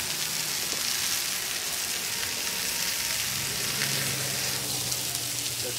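Smash burgers sizzle steadily on a Royal Gourmet 36-inch flat top grill after being pressed flat with a skillet, a dense continuous hiss with a low hum beneath and no talking.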